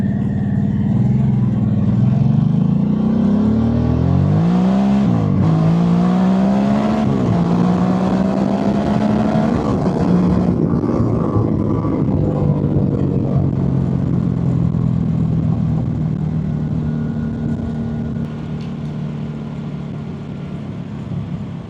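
A Harley-Davidson Sportster S motorcycle accelerates hard with no talk over it, its loud engine note sweeping up through the gears across repeated rises, then settling to a steadier drone that fades slightly at the end.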